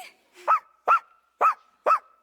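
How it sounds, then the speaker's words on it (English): A dog gives four evenly spaced barks, each a short clear woof with a slight whimpering edge, close by in an otherwise quiet room with no talking. "Don't interrupt when someone's barking"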